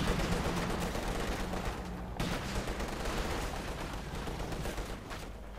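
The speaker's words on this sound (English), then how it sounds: "T-55 moving up there, 85mm gun, machine guns turning into the fascists." Continuous battle noise in the real-time strategy game Company of Heroes 2, with dense rattling machine gun fire and explosions mixed into a loud, unbroken wash of combat, and no voice over it.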